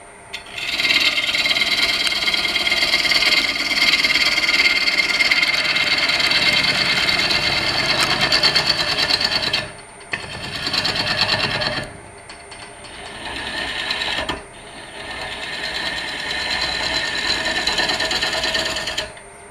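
On a wood lathe, a bowl gouge held in a shear scrape presses against the spinning wooden bowl, producing a steady close hiss and rasp over the lathe's hum, broken by brief pauses as the tool lifts and re-engages.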